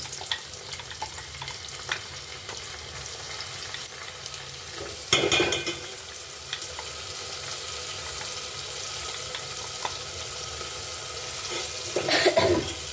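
Onions and ground masala sizzling in a pan, a constant frying hiss broken by two louder bursts of scraping and stirring.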